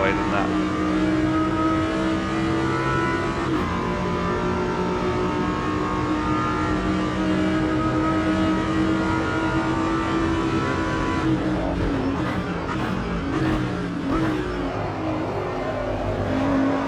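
Race cars lapping Road Atlanta in the AMS2 racing game, engines whining steadily at high revs with gear-change dips and shifting pitch, continuous and loud, with a commentator's voice faintly under the engine noise.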